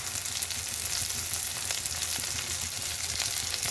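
Onion being fried lightly in a pan with green tomato and greens, producing a dense, steady, even sizzle, close and unbroken throughout.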